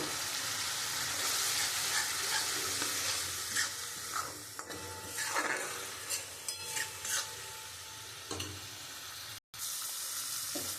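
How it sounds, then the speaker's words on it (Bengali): Gobindobhog rice stir-fried with spices in oil for murighonto, a continuous sizzle overlaid with repeated scraping and rattling stirring strokes, close and fairly loud, no voices. "এবার আমি গোবিন্দভোগ চালটা দিয়ে দেবো চালটা দিয়ে আমি খুব ভালো করে কষিয়ে নেব"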